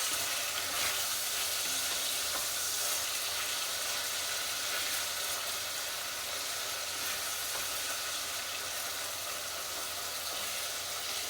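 Beef browning in a hot pan for a braised ragu gives a steady, close sizzle and spattering hiss that holds evenly throughout with no voices.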